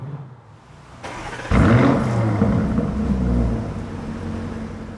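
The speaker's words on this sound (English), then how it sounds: "So let's start it up in Strada and see what it sounds like." Lamborghini Urus engine cold-starting in Strada mode: a starter whir, then a sudden loud, close roar at about 1.5 seconds that settles into a deep, rumbling high idle, with no one talking.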